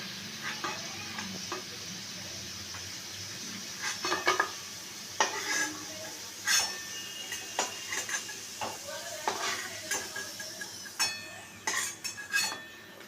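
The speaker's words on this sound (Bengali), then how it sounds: "আমি আলুগুলোকে একটু লাল লাল করে ভেজে নিচ্ছি" Potatoes sizzle softly as they fry to a reddish brown in hot oil while a utensil stirs and clinks against the pan, close by and without talking.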